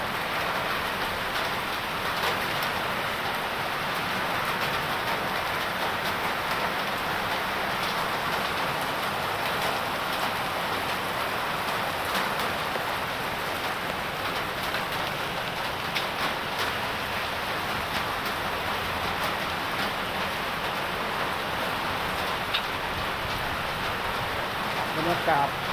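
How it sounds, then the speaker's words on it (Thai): Steady rain falls in Vientiane, Laos, a constant even hiss of drops on surfaces that runs unbroken for nearly half a minute. "บรรยากาศฝนตก"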